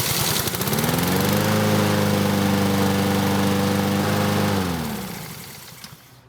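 Small push lawn mower engine catches and runs at a loud steady drone, then winds down and cuts off near the end.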